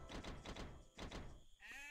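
Sheep bleat in a strategy video game, several wavering calls in quick succession over continuous game ambience and clicks, fairly loud and close.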